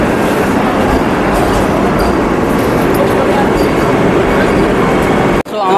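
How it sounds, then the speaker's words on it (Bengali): A Vande Bharat Express pulls into a railway station, a loud, steady rumble of the train filling the whole stretch, with voices mixed in, before it cuts off abruptly at the end. "আমাদের বন্দে ভারত ট্রেনও এসে পড়েছে।"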